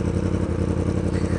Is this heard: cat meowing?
no